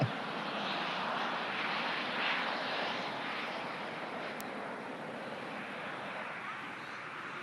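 Twin turbine jet aircraft performing a night display at an airshow, a broad steady roar that holds at constant loudness and fills the whole clip, with faint voices partly buried beneath it.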